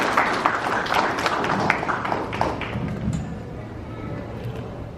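Church congregation applauding during a service, with a burst of sharp, close claps that thins out and fades over several seconds.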